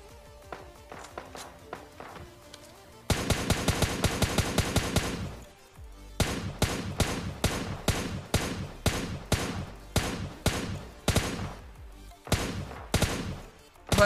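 Gunfire in the video game PUBG Lite, with a rapid automatic burst followed by a long run of loud, evenly spaced single shots, close and punchy, no talk over it.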